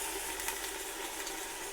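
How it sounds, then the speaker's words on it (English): Beef shin browning in a hot pan sizzles and crackles steadily, a close, quiet fry with a continuous hiss and small pops throughout. "but it's sizzling away"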